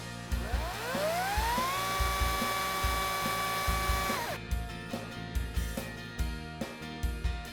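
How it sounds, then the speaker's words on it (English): A 40-volt battery-powered electric chainsaw whines up to speed, holds a steady high motor tone, then bogs and cuts out as it bites into protective chainsaw chaps, leaving repeated low thumps and mechanical rattles afterward. "we're gonna put the battery powered chainsaw to the test"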